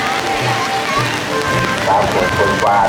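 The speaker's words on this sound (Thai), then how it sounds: "แต่ว่าตอนนี้ฝนตกนะครับ" Heavy rain pours during a Shan festival procession in Mae Hong Son, a dense, steady hiss close by, with faint crowd sounds and scattered noises mixed in.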